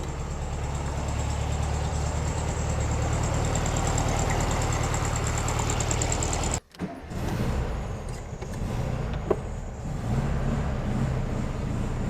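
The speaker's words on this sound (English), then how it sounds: "it seems to be idling very well at the moment" A 1972 Volkswagen Super Beetle engine idles with a steady low rumble for about six seconds, then cuts abruptly into a quieter, uneven stretch with faint clicks and a brief knock.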